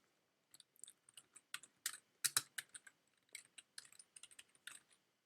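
Close, quiet typing on a computer keyboard: an irregular run of light key clicks with a brief faster flurry in the middle, and no other sound.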